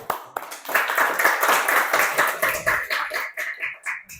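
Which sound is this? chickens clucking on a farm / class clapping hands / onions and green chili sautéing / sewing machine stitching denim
class clapping hands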